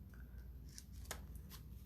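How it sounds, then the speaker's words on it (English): Scissors snipping paper pieces for embossed card making, a few short crisp cuts spaced apart over a low steady background hum, with no talking. "Need my scissors, my snips."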